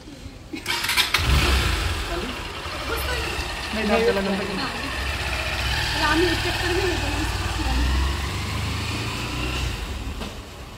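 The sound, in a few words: engine of a new vehicle starting for a first ride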